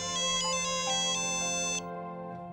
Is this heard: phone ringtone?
yes